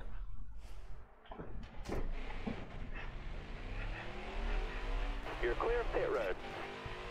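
A Chevrolet NASCAR truck engine revs and races in the video game NASCAR Heat 4, a sustained rising drone with shifts and a few sharp knocks, while someone talks over it.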